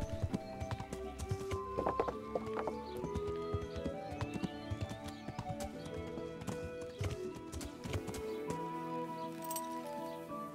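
A horse in Kingdom Come: Deliverance clip-clops along with steady, rhythmic hoofbeats and lets out a whinny, accompanied by faint jingling tack, all at a moderate, fairly quiet level.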